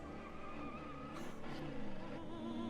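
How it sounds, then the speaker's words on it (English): Car crash sound effects from the video game Tender Loving Care play quietly, with a vehicle engine roar and tire skidding squeal rising toward the end. "The fucking car crash sounds!"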